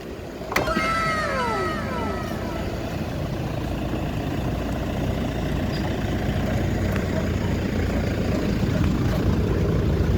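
A taxi's engine idles steadily under the open hood, a constant low rumble that runs throughout, with a brief whining sweep near the start.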